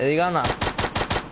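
Gunfire in the mobile battle game Free Fire, a quick burst of five loud, evenly spaced shots close by, right after someone speaks briefly.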